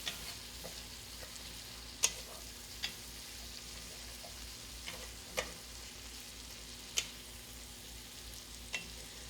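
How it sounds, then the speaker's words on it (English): Seafood étouffée seasoning being stirred around a big pot, a low steady sizzle with a handful of sharp spoon scrapes and taps against the pot at irregular intervals, close and fairly quiet, no talking. "When you put it in, you got to stir it around."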